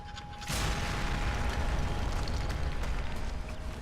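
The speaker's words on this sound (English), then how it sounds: "this bomb is a very small explosion for a bomb" A small bomb detonates in the zombie shooter game Sniper Elite Nazi Zombie Army 2, giving a sudden muffled boom that settles into a sustained rumbling, crackling wash lasting several seconds.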